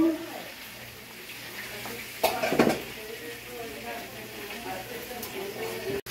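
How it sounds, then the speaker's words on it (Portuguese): Tambaqui fish frying and browning in a pan, a steady low sizzle running throughout with a brief burst of louder clattering and stirring in the middle and people talking over it. "o peixe já tá dourando"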